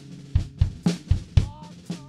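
Compressed drum kit with a regular pattern of punchy low kick-and-snare hits in a mix, with a faint scratch vocal sitting low in the background.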